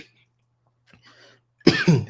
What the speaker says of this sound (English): Oh my gosh, I'm coughing again.